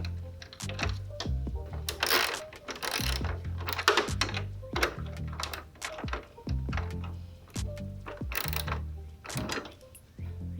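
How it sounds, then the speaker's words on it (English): Screws go back into a Toyota Tacoma TRD Pro grille with close, repeated ratcheting clicks and mechanical rattles in uneven bursts. "So we're gonna put the screws back in"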